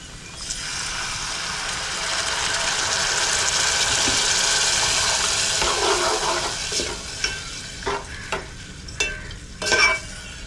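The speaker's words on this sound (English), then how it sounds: "Then you pour the diluted dahi over it." Diluted yogurt is poured over a Kerala-style curry in a hot pan, giving a loud sustained sizzle that swells and then fades into scattered crackles and stirring clinks toward the end.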